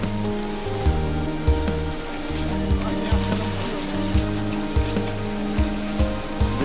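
The swollen Kameng river rushes in a dense, continuous roar of flowing water, loud and close, with a faint rhythmic mechanical pulsing running underneath.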